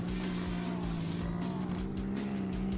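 In the video game Earn to Die 2, a car drives over zombies with a steady droning engine hum and rhythmic bumping thuds, loud and continuous throughout.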